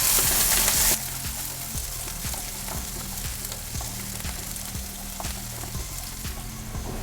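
Onion sautéing in a pan with bay leaf, cinnamon, cloves and cardamom: a loud hiss at first, then a steady close sizzle broken by regular scraping stirs of a spatula.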